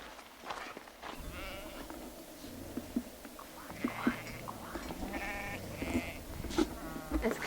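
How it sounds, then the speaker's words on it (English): Sheep on a road bleating repeatedly, several calls near and farther off amid shuffling and low murmured voices, faint overall with the bleats rising above the background. "Why is he not moving his sheep out of the way?"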